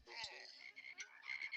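Frogs croaking as a story sound effect, a clear cluster of raspy, rapid croaks and chirps, fairly faint but prominent, with no talking over it.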